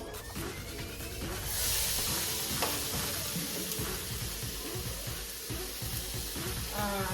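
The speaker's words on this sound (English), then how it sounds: "we're gonna go ahead and put all our Angus beef that I chopped up already into the pan" Chopped Angus beef sizzling steadily in a pan over medium-low heat for street-style tacos, a continuous close frying hiss with faint stirring scrapes throughout.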